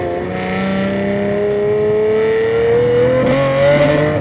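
A Lamborghini Murcielago accelerates hard, its engine note climbing steadily in pitch as a loud, continuous howl with no voices over it.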